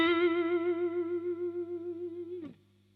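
An electric guitar holds one sustained note with snappy, rapid downward vibrato, the pitch wobbling quickly and evenly for over two seconds before the note is cut off abruptly, leaving a low hum.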